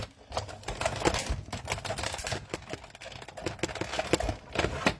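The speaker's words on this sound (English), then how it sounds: "I'm just going to put that through the die cutting machine off to the side." A Sizzix die cutting machine runs at a crafting table, giving a busy stream of close mechanical clicks and rattles with a steady, irregular rhythm throughout.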